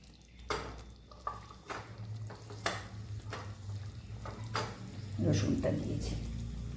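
Garlic frying in hot ghee for dhaba-style garlic spinach, with sharp utensil clicks and scrapes over a low hiss, and the sizzle swelling louder near the end.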